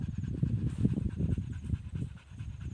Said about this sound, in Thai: ไม่หายใจอย่างนั้นละแดง เหนื่อย